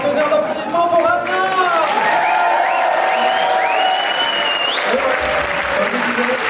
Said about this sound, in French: J'aimerais encore un tonnerre d'applaudissements pour Anna.